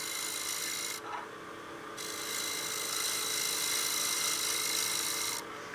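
Easy Wood Tools cutter shaves a wooden bowl spinning on a lathe, a continuous rough rasping hiss with a brief pause near the start and another at the end.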